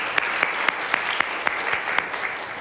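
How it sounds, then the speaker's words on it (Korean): Church congregation clapping during a Sunday service after a summer camp, a steady crowd of hands with a few sharper claps rising at regular intervals, moderately loud and sustained with no talk on top. "박수로 응원하겠습니다"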